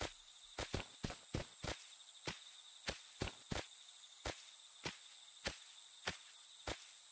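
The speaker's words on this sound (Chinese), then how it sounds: "这边一直有个脚步声，这算是异常吗？" Footsteps on a night shrine path in a horror game, with a dozen crisp, evenly spaced steps at a steady walking pace over a constant high insect-like drone.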